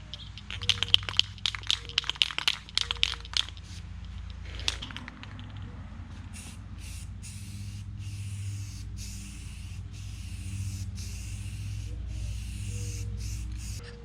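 Black guide coat paint sprays onto the roof of a 1970 Plymouth Barracuda under repair. A steady, hissing spray runs for several seconds after some earlier rattling and handling noises, heard close and fairly loud.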